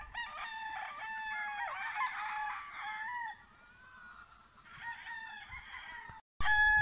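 A Gilmore Roundhead gamecock stag with yellow legs, kept at a Bohol game farm, crows nearby in a long, harmonic call followed by a second shorter crow, fairly quiet, then a brief cut.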